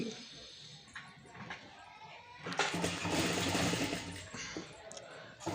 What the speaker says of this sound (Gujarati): આ રીતે સિલાઈ મારી દેવાની ઉપર કિનારી ઉપર